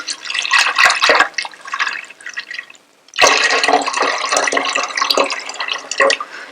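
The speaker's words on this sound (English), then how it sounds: "Now I'm going to add about 5 to 6 cups of water." Water poured into a pot for karhi pakora, a splashing, gurgling stream that pauses briefly near the middle and then resumes strongly.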